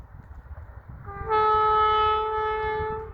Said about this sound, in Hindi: ये आई ट्रेन, वो स्लो है